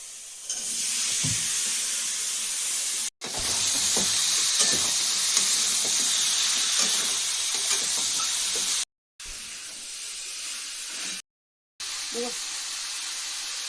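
Raw jackfruit and potato fry loudly in a pan, a bright continuous sizzle and hiss with occasional stirring knocks, broken by several abrupt silent gaps.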